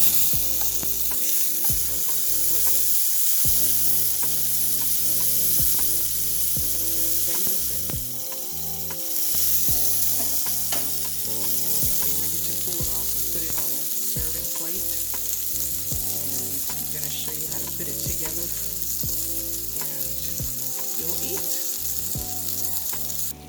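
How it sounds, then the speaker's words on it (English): Naan bread sizzles and crackles steadily in a hot skillet on the stove, a continuous close frying hiss with a faint hum underneath and no talking. "the one that's in the skillet on the stove. Okay, it's sizzling"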